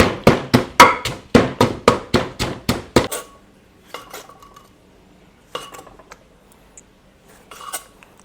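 Som tam papaya salad pounded in a mortar: about a dozen quick, evenly spaced, close thuds with a woody knock, then the strikes stop and only a few sparse light knocks and clinks follow.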